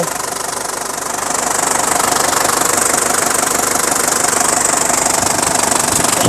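A 2004 Isuzu D-Max 3.0 turbo diesel idles with a steady, loud, close diesel clatter and knock that holds even throughout, with no voices over it.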